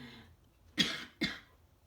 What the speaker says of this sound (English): Just smoker's cough.